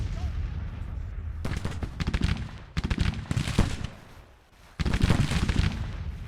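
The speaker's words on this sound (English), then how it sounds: "Oh, it's the brigade firing." Volleys of rifle fire from a Civil War brigade in the Grand Tactician strategy game, loud crackling bursts of many overlapping shots in clustered waves, with a short lull before another heavy volley.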